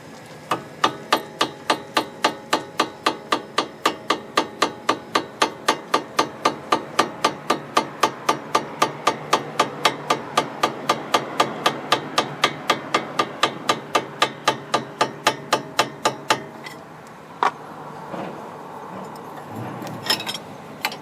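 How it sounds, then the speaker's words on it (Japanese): A plastic hammer taps the height adjuster on an AE111 Corolla Levin coilover: a long, even series of light, sharp knocks at close range, about three per second, before stopping and giving way to faint handling noises. "自分はプラスチックハンマーで、最初は軽く叩きます。"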